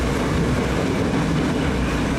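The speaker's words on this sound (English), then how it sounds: "it sounds like some of the old trains we had in America years ago" A 50-year-old Wellington commuter train carriage runs along the track, giving a steady, loud, continuous rumble and roar with no breaks or voices.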